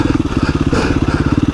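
KTM 350 EXC-F dirt bike running along a rocky trail, its single-cylinder engine thumping in a rapid, regular pulse, close and loud, with a brief surge of clatter midway.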